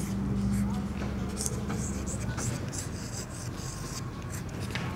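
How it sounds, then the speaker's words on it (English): Hand writing on a board or paper during a primary-level English lesson: steady scratchy rubbing strokes run throughout, fairly close, over a constant background hum. "Let me write it down."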